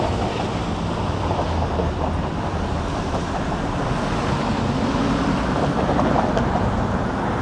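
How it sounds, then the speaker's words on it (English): A Toronto streetcar rolls past on Broadview on a sunny city street, its steady heavy rumble filling the scene loudly and continuously with traffic noise around it. "the streetcar turns north at Broadview here"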